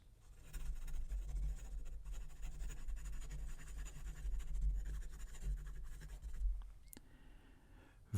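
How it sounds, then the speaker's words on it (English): A Majohn C4 eyedropper fountain pen scribbles quickly across paper, giving a soft, continuous scratching with small stroke-by-stroke variations over a low steady background hum. "I'm just going to write my normal speed test gibberish."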